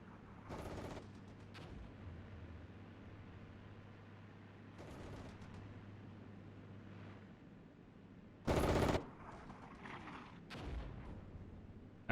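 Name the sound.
machine gun fire in the video game Armored Brigade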